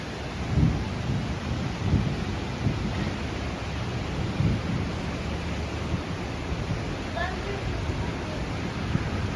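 Steady rain pours during a thunderstorm, a dense continuous hiss with low rumbles of thunder swelling beneath it, with people talking faintly over the downpour.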